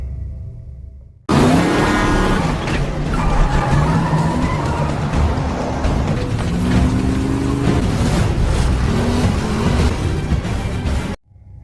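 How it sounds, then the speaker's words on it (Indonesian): A car driven as fast as possible in a chase, its engine roaring loudly and steadily with rising revs and tire noise, close and continuous after a sudden start, no talk. "Alice mengendarai mobil secepat mungkin"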